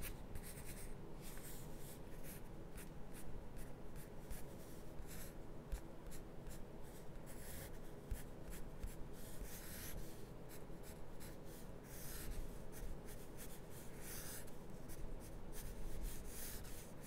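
Pencil scratching and sketching across paper in a quiet ASMR portrait-drawing setting, steady close strokes in short irregular bursts with brief pauses, no talking.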